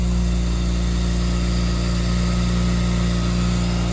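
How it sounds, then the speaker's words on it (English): The rotary engine of a Mazda RX-7 Turbo II idles fast and steady on a mid-winter cold start after storage, with a constant mechanical drone and vibration, loud and close, without any change in pitch. "I don't know why it's idling so high"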